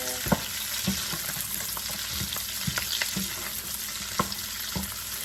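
Cabbage and bacon are stirred in a hot pan under a constant crackling sizzle, with repeated sharp utensil clacks and scrapes against the pan at irregular intervals.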